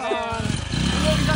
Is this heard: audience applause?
no